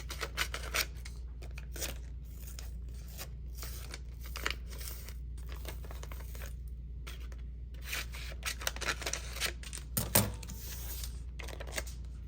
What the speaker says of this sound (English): Now for the sticker paper, you can take the whole thing off or just cut off the edges. I'm gonna cut off the edges just for this one.